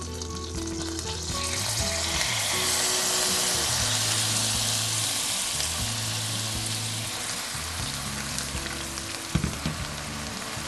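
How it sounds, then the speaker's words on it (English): Spinach worked around a pan in browned butter, a dense continuous sizzle with soft stirring and scraping, close up, ending in a couple of sharper utensil clinks, no talking. "Just work the spinach around in the pan to coat it in the butter."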